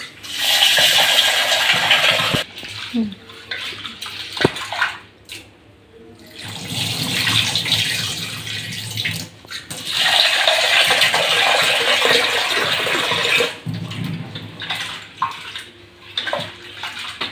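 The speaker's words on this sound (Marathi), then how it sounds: "मी आता इथं भिजत ठेवते त्याच्यात डाळ धुवून घेते" Lentils (dal) washed in running water, a loud close splash and gush of tap water in bursts, with brief quieter gaps between rinses.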